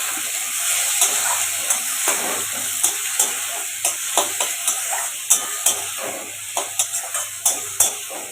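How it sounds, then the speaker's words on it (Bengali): Onion, tomato and green chili fry in a pan for a soybean kofta dish, a steady close sizzle punctuated by many sharp rhythmic spatula scrapes and taps, with no voices. "পেঁয়াজ টমেটো কাঁচা লঙ্কা এগুলো সব দিয়ে দেবো এবারে এগুলোকে ভালো করে ভেজে নেবো"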